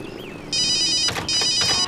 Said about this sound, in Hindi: ओ नो, मॉम का ही फोन है.